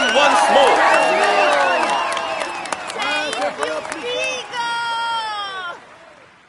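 A crowd applauds and cheers a Tour de France rider after a mountain stage from Saint-Girons to Foix, loud clapping and whoops that swell, fade and rise again before trailing off, with voices mixed in.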